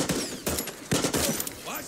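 Several sharp gunshots in quick succession from the Far Cry 6 game world of Yara, near and loud, with brief game noise between the bangs.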